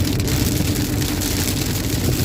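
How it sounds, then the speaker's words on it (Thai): Steady, dense rain noise fills the whole clip, a heavy downpour on a highway in Surin, Thailand, with a low rumble of traffic or an engine underneath. "ฝนตกอย่างหนักเลยครับ"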